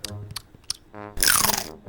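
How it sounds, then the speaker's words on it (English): Crunch of someone biting into a sandwich with dry cat food inside, a few close, sharp crisp crunches and chewing sounds, heard alone with no talk. "I'd just be patiently waiting to hear that fucking first crunch noise go off in his mouth."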